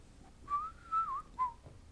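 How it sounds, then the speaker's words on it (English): A person whistles a short, wavering tune close by: one sustained note that bends and wobbles, then a brief second note, alone in a quiet room. "I'm sorry, I'm not allowed to whistle."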